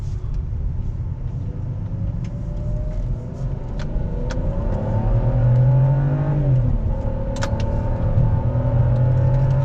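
A Volvo T6 3.0L engine, freshly fitted with new spark plugs, idles with a steady low rumble, then revs up and holds higher for several seconds, loud and close, before dropping back and rising again.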